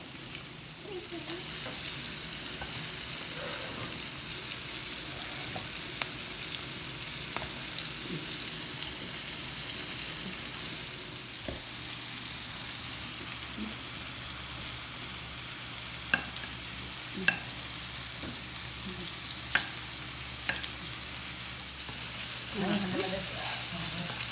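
Green tomatoes fresh from the garden fry in a pan with a steady sizzle and occasional stirring clicks, running continuously at moderate loudness with no talk.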